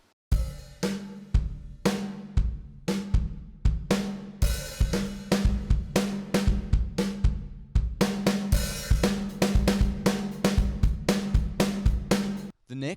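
A grunge-style drum groove from a drum plugin preset, with saturation and compression, pounds steadily with punchy kick and snare hits and crashing cymbals, loud and driving throughout.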